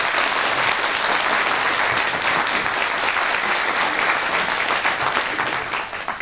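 A studio audience on a 1991 Icelandic television talk show applauds a pop singer, a loud, dense, continuous roar of clapping that thins slightly toward the end.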